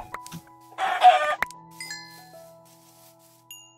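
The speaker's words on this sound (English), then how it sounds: "I'm still killing chickens." Chickens in a UHC survival video game give a short burst of clucking, followed by scattered chime-like tones and beeps from the game.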